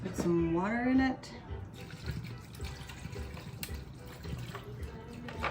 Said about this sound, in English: I'm gonna put some water in it.